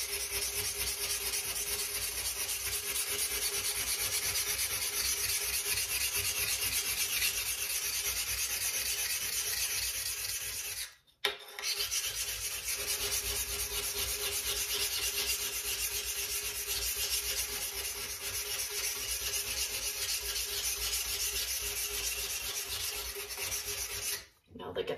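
A wet scouring stick scrubs a dirty sink in a continuous, loud, gritty rubbing that runs close up almost without a break, stopping briefly twice, sped up like a time lapse and with no talking.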